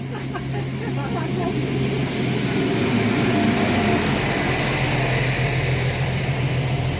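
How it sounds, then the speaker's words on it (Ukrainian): A Polish electric commuter train rumbles steadily close by on the Szczecin–Goleniów line, a broad continuous roar with a low electric hum, growing slightly louder midway as it pulls in. "Ось вже під'їжджає наш потяг."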